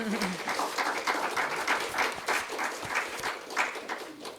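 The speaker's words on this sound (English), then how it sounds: "I will note the applause for him, for sure" Applause at a board of education meeting, honoring Dr. Freeman: a steady, moderately loud patter of many hands clapping that continues throughout, with some faint voices underneath.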